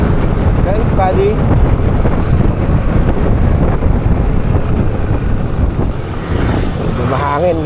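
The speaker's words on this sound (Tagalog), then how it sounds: "taas ng hangin dito." Strong wind batters the microphone with a loud, continuous rushing roar outdoors along a road in Aliaga, with traffic or engine rumble beneath and brief voices in the background.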